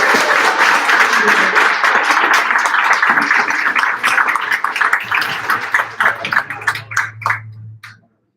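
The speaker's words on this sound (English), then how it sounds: "Can I get a round of applause for all of you?" A youth design team exhibition audience claps loudly and steadily in a dense burst of applause, which thins into scattered claps and then stops.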